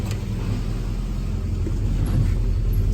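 A 1955 Studebaker Champion with billet pedals gives a low, steady engine rumble from inside the cabin as the ride gets under way, close and even with no talk.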